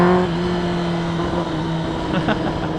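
A Kawasaki ZX10R motorcycle, remapped and dyno tuned, holds a loud, steady engine drone with harmonic tones that shift slightly, close to the microphone, with no speech over it.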